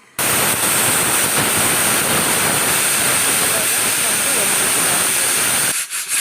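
A loud, sustained hissing whistle of steam escaping from a pressure cooker cooking ghee jeera pulao, cutting off abruptly near the end.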